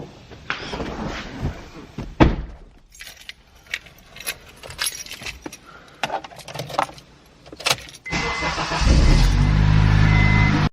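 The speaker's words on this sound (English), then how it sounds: "But we'll be taking the DC5 RSX daily over to Long Shop." An Acura RSX DC5 daily car at a shop: scattered clunks, jingling and a solid door slam, followed by the engine starting and running steadily up close.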